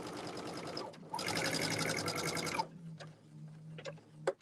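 A sewing machine runs in fast rapid-fire stitching bursts while sewing a sampler quilt block, stopping briefly, then running again for a longer stretch before falling quiet to a few soft clicks.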